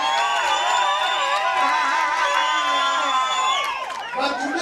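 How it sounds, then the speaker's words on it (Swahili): Delegates at the Wiper Patriotic Front national congress cheering and whooping for a county governor, a loud sustained crowd roar with high shouts layered over it, dipping briefly near the end. "Makofi wake."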